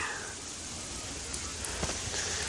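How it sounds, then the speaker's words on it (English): Heavy rain pours down in a steady, dense hiss that fills the whole clip, with a few brief louder splashes near the end and no voices. "I actually can't believe how badly it's raining."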